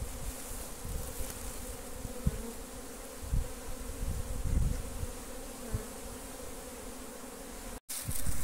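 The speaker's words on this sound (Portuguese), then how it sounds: "as abelhas estão todas aí na caixa" Apis honey bees buzz steadily around a hive box set where a swarm was captured from a cabiúna stump, a dense continuous drone with a few brief knocks and no voices.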